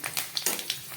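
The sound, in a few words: cumin seeds, bay leaf and green chillies sizzling in frying oil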